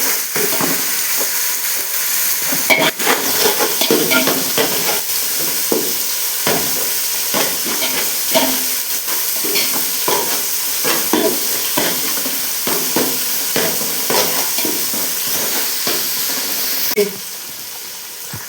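Onions sizzling and frying in a pan while being stirred for a crab gravy, with a continuous hiss punctuated by repeated scraping stirs and clacks, close up and steady.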